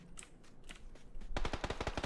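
Automatic gunfire in the video game PUBG, a rapid burst of about a dozen sharp shots near the end after a few scattered single reports, close and loud.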